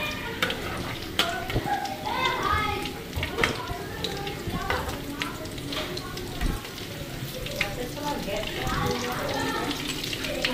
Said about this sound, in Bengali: एकदम लाल लाल हुआ देखो भाजा इसे